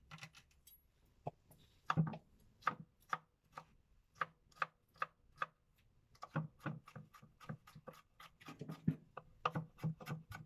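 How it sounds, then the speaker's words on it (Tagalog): A knife chopping garlic and onions on a board, a run of sharp, close, evenly spaced taps that quickens into a denser burst near the end, with no voices. "mag-slice tayo ng ating mga bawang sibuyas"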